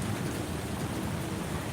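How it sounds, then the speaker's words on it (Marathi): Heavy rain falling outdoors in Mumbai, a dense, continuous hiss of downpour close by with no breaks and no voices. "फायनली मुंबईमध्ये पाऊस"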